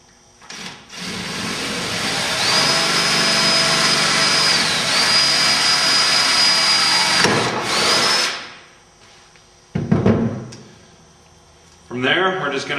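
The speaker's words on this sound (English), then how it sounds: "From there I'm going to move to a 1/2" bit for our center hole." A power drill with a 1/2 inch bit bores a center hole in a homemade snag plate, a loud steady whine lasting about seven seconds before winding down, followed by brief bursts of tool noise.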